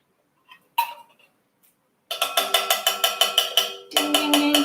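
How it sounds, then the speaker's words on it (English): A small bell is rung in a kitchen while a pumpkin spice latte is being made: a few isolated taps, then a quick, close run of bright repeated dings continuing to the end. "Ding, ding, ding. Ringing the bell."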